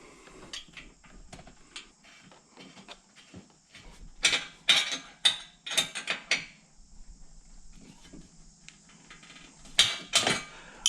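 A wrench works a nut onto a windshield stud on a Polaris Ranger UTV. There are close, irregular metallic clicks and ratcheting bursts, some sharp and loud, separated by quiet gaps.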